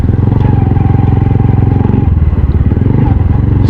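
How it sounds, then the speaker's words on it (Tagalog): A motorcycle engine idles unevenly with a wet air filter, sputtering and chugging in a rough, pulsing rhythm, loud and close throughout. "kailangan na palitan tong filter ng motor ko kasi nabasa to. Kaya pumupugak-pugak yung"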